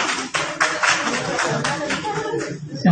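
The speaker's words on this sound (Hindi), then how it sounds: "डॉक्टर नूर साहब आ गए हैं, इनका जरा अब देखने तालियों के साथ इनका वेलकम किया जाए ना।" Audience applause welcoming a speaker, Dr. Noor, to the stage at an event: a sustained, dense clapping of a crowd filling the whole moment, fairly loud and near.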